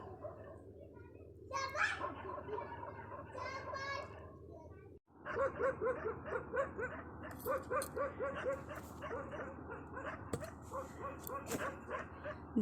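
Several dogs chasing a herd of wild boars, yapping and barking repeatedly at a distance with some whimpering yips, a steady outdoor rumble underneath and a person talking at times.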